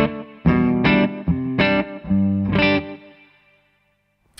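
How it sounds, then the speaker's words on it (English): An electric guitar runs through a delay pedal set for short slapback echo, playing several distorted chords in a rhythmic pattern, each stab doubled by a quick repeat before the last one rings out and fades into near silence. "So that's kind of it with the echo."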